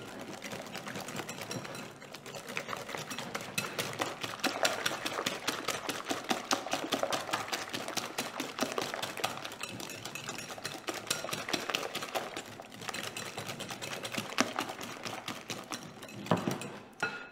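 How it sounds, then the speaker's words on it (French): An electric mixer beating eggs to a pale foam for a cocoa cake, a steady close whirring buzz with a fast rattling pulse that runs continuously throughout. "On va bien blanchir les œufs."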